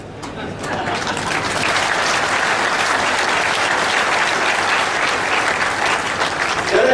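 A national conference audience in a large hall bursts into loud, sustained applause, a thick wall of clapping that holds steady and close throughout.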